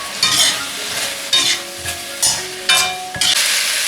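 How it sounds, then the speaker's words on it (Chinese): A thickening sauce stir-fried in a hot wok over fried scallion, ginger and garlic for squid rolls: a loud, steady sizzle broken by about half a dozen bursts of spatula stirring, with no talking. "这个料汁要稍微炒一下，你看现在有一点粘稠了就可以了"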